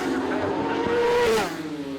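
Superbikes on the final lap of a Masters Superbike Championship race scream past at close range, one engine note rising and falling in a brief, loud pass.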